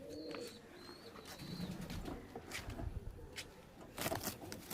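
Pigeons at a loft coo softly while being released to fly, with faint chirps and brief wing flutters over a low, steady outdoor background.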